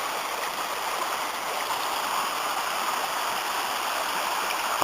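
A small tributary stream of the Ysgethin river runs steadily over rocks near a slippery footbridge, a continuous close rushing wash of water with no voices.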